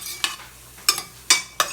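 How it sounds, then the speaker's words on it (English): Green and red bell peppers with other vegetables sautéing in a pan, a soft steady sizzle broken by four sharp scraping stirs spaced across the moment. "Okay, so we're gonna let this saute to get those flavors going."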